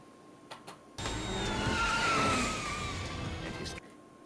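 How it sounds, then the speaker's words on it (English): In a Batman cartoon, the Batmobile zigzags and skids through traffic: a loud engine roar with squealing tyre screeches swells and fades over about three seconds, after a couple of brief taps. "So this is the Batmobile, like, zigzagging in front of other cars."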